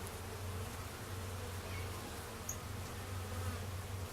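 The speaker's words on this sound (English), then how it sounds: "All these bees here in this row kind of look about the same." Honey bees hum steadily around their hive outdoors, a continuous low drone with no voices, faint and even throughout.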